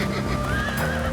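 A horse neighs in one loud, close, sustained whinny, with a faint clip-clop of hooves beneath it.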